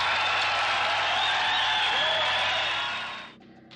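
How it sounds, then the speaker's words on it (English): Dense, steady applause from a group fills the space for a few seconds, then tapers off and stops abruptly. "Thank you for the applause."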